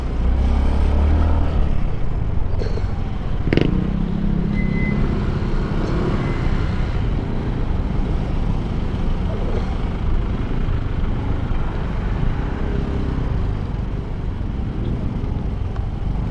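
Road traffic rumbles around a Honda Fazzio scooter ride toward BGC and MOA, a steady, close low drone of engines and wind with brief passing vehicles and a faint beep.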